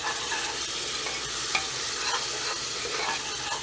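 Aloo gobi, potato and cauliflower with a little water added, stir-fried in a pan, giving a steady close sizzle with scraping stir strokes throughout, no voices.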